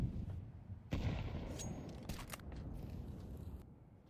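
Pistol gunfire in Counter-Strike 2 during a CCT EU Season 3 match between Nexus and Amkal: several sharp shots and short bursts, fairly close, over constant game noise.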